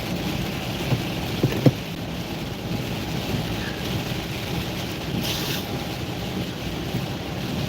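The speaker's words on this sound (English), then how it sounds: "Look at the rain." Steady rain patters on a car at night while driving, with a constant wash of noise, a few sharp knocks early on, no talking.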